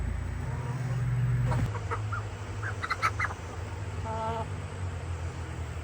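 Soft clucking and brief calls from a few hens, close by, with a faint background hum and scattered short chirps.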